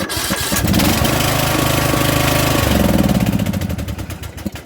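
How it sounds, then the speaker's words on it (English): A Troy-Bilt lawn mower engine cranks over the compression stroke and catches, running loudly up close for a few seconds before sputtering and winding down at the end. "it pushes past the compression stroke and it'll spin and start"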